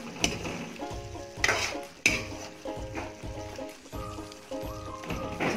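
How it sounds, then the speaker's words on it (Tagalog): Sweet and sour sauce with squash meatballs being stirred in a pan, a steady run of soft scraping strokes and light clinks of the utensil against the pan over a faint sizzle, with tonal music-like hum underneath. "Haluin lang natin."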